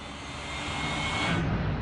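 A 27-year-old DC-9 jet airliner taxiing, its engines giving a steady, close broadband roar that swells slightly louder toward the end, with no talking.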